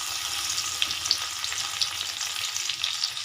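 Chopped garlic sizzles in hot oil, a steady bright frying hiss close up with small pops and crackles scattered through it and no voices.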